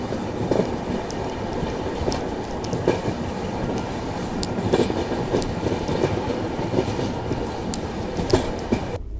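Passenger train rolling along rails through a ghat section near Betul, heard from on board: a continuous rumble with rhythmic clickety-clack, sharp wheel clicks and faint squeals, no voices.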